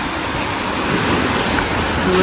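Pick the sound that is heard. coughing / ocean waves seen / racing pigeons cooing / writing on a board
ocean waves seen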